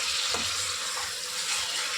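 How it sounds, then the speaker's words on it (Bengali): A steady, bright sizzle of spices frying in a pan, close and continuous with a faint stir partway through. "একটু মশলাটা যেহেতু ভাজছি"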